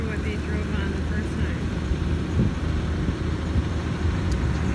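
A farm tractor steered by GPS drives steadily along a field, its engine a continuous low rumble heard from close by over constant mechanical noise, with a voice faintly present.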